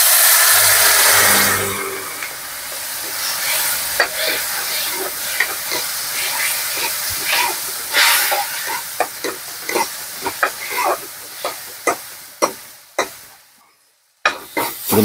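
A dried-food dish fries in a pan after a little water is added, with a loud sizzle at first that fades as a spoon scrapes and knocks against the pan in uneven strokes, ending in a few sharp scrapes over near-quiet.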